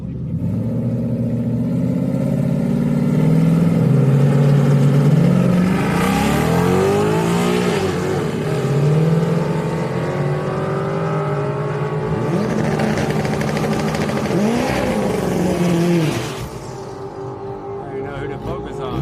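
Turbocharged and naturally aspirated drag cars at a Houston Raceway Park street night roar through loud rising engine revs in both lanes, staying continuous and close for most of the clip before easing toward the end, with talk mixed over the noise.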